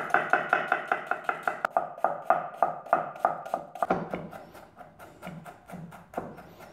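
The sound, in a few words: chopping onion and garlic with a knife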